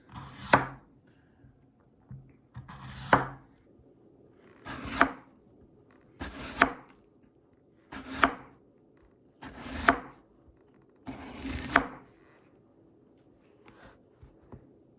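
Knife slicing through an apple on a board, seven crisp cuts spaced about a second and a half apart, each a short crunchy stroke with quiet gaps between, close and alone.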